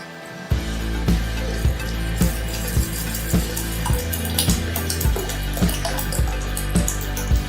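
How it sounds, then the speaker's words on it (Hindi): 750 ml of water being poured into sugar in a pan, a bright, continuous splashing stream heard over a steady rhythmic beat, close and fairly loud, with no speech. "अब मैं उसमें 750 ml पानी ऐड करूंगी।"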